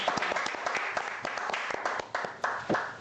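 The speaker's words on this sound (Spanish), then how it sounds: "Recibamos a nuestra querida Jenny con un gran aplauso," Studio audience applause welcoming a guest onto a television interview show, a short burst of many hands clapping at moderate level with no one talking over it.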